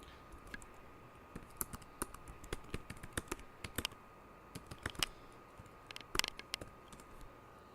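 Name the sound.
typing on a computer keyboard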